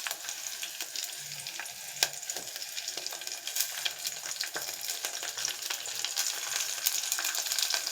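Onions and curry leaves fry in oil in a pan for a prawn-and-brinjal curry, giving a continuous, fairly loud sizzle with crackles and occasional stirring scrapes, no voices.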